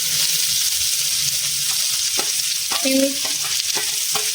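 Chopped onion frying in hot oil for a Marathwada-style curry filling, a steady loud sizzle with a few utensil scrapes and clicks from stirring in the pan; a brief spoken word is heard.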